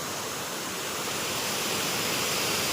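Water pouring over the overflow of a lake spillway at a temple site, a steady broadband rush that stays constant and moderately loud with no voices throughout.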